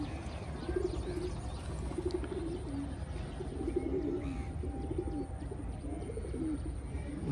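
Pigeons coo steadily from close by, the soft throaty calls repeating for several seconds against a constant low background hum, with faint chirps now and then.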